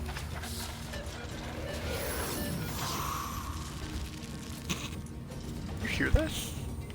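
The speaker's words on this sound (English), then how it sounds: "that's the sound of the robots moving." Robots moving in the video game Divinity, a steady mechanical clanking and creaking with ratchet-like grinding that runs throughout, with a couple of brief sharper knocks near the end.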